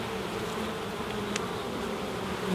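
Honey bees in an opened hive that is being prepared for winter make a steady, close buzzing drone. It holds at an even level for the whole clip, with no voices over it.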